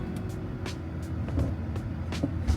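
A BMW bought at auction rumbles with a low engine drone after being put in gear and driven off, close inside the cabin, steady with faint clicks and small bumps and no talking.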